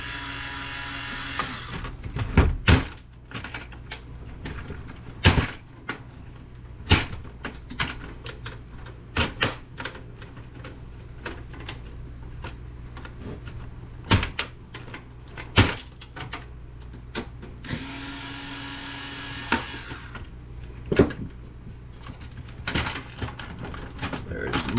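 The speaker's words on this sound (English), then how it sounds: "There's the motherboard coming out." Clattering and prying as a motherboard is worked loose from a scrapped Lenovo or Dell desktop computer, with repeated sharp metallic clicks and knocks spread through the clip alongside scraping and a steady low hum.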